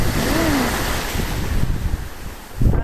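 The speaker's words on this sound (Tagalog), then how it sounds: "Ayan ang lakas ng alon, no?" Strong sea waves and gusting wind at a fish pen out on open water in bad weather, a steady loud roar of surf and wind buffeting the microphone, with a heavier wash near the end.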